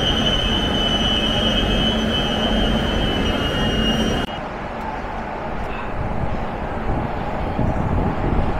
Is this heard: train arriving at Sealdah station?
yes